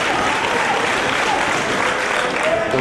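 Applause and cheering from a wrestling crowd fill the arena, a steady dense roar of clapping with faint whistles rising above it.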